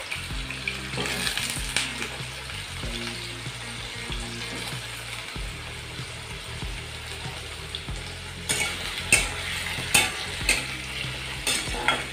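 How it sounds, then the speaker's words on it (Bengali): Potatoes fry in hot oil in a wok, a continuous close sizzle with occasional stirring scrapes and clinks that grow sharper and more pronounced toward the end, with no talking. "আর আলুটা এবার প্রথমে আমি ভেজে নেব।"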